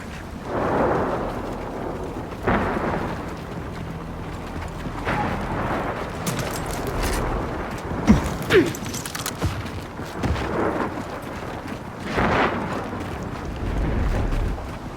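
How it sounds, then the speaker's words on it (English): Windflare storm in the video game Gears of War 4, with loud gusty wind bursts surging and fading repeatedly, rumbling low with rattling debris hits, no talk. "Oh, guys, we got another wind flare."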